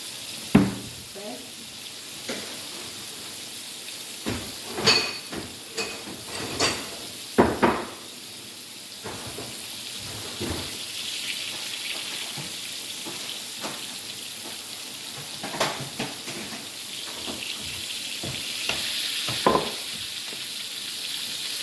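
Patties frying in old grease in a hot pan, a continuous crackling sizzle close by, with scattered clacks and knocks of utensils early on and the hiss swelling later.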